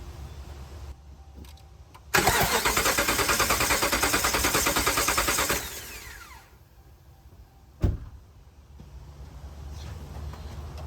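A 2010 Ram 1500's cold Hemi 5.7 V8 cranks over during a compression test, a loud rapid rhythmic starter churn lasting about three and a half seconds with no start, then quiet apart from a brief knock.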